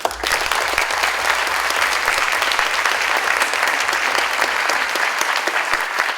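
An audience at a media for social impact summit applauds to welcome a speaker, sustained dense clapping from a crowd that holds steady throughout and then thins out toward the end.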